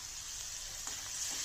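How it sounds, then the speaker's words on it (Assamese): Homemade hidol fermented fish paste frying in oil with onion and green chili, a soft, steady sizzle with a couple of faint stirring scrapes and no talking. "এইটো পিঁয়াজৰ লগত কেঁচা জলকীয়াৰ লগত অলপ ভাজি পেলাওঁ"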